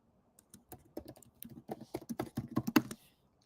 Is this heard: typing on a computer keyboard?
yes